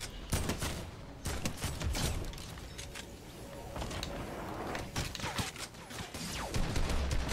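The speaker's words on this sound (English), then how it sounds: "Okay, who's shooting at me now" Gunfire in an online shooter video game, with sniper rifle and shotgun in use: a rapid, dense clatter of shots and mechanical clicks runs steadily throughout at moderate level, with no voice over it.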